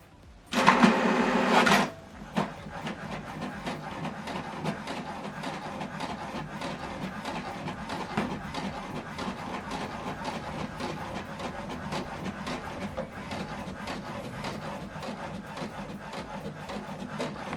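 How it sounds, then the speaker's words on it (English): HP Deskjet All In One printer printing a document: a brief loud mechanical burst at the start, then a quieter steady whirring and clicking of the print mechanism that continues to the end. "Now this document is printing."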